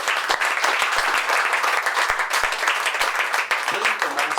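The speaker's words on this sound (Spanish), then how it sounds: "Le damos un fuerte aplauso al Señor por los amigos que nos acompañan." Church congregation clapping during a Sunday service, a brisk, fairly close burst of many hands with some distinct individual claps standing out, continuing steadily for a few seconds.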